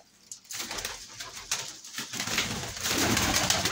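Large pigeons kept for sale coo and shuffle close by, a dense flock with overlapping calls and a bit of wing movement, growing busier toward the end.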